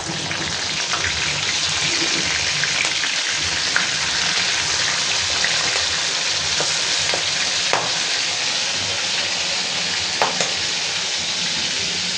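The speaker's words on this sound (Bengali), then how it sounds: "তেল গরম হয়ে গেছে, চিংড়ি মাছ দিয়ে দিচ্ছি।" Large prawns fry in hot oil with a dense, continuous crackling sizzle, loud and close, with occasional sharper pops and spits.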